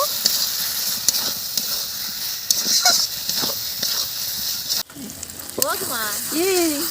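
Spice masala with turmeric and salt frying in a pan for Bengali aloo dum with new potatoes and peas, a steady hiss with stirring scrapes, then voices and other background sounds cut in partway through.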